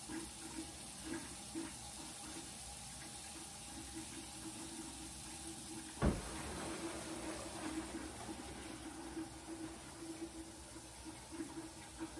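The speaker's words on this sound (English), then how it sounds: "I turn on the cold water so that it doesn't affect the seal of my" Cold water runs steadily from a kitchen tap into a sink fitted with a garbage disposal, a low continuous rush with a brief clunk partway through.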